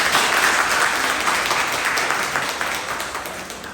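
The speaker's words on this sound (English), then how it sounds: "can you just give a round of applause?" A round of applause from an event audience at a kick-off gathering, dense, even clapping that holds steady and loud, then slowly fades slightly over a few seconds.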